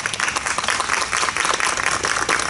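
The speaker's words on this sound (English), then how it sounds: "Please join me in a round of applause." Steady applause from a crowd at a memorial drive co-naming ceremony in Forest Park, dense clapping sustained and loud throughout.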